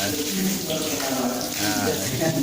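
Tap water runs steadily while a child rinses the mouth during wudu ablution, close and continuous, with faint voices underneath.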